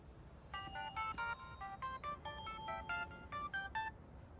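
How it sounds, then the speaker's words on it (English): A phone in the video game Dreamfall Chapters sounds a rapid run of electronic tone beeps, clear and close, in short bursts like a dialing or ringing signal, with almost no voice present. "We're getting a phone call."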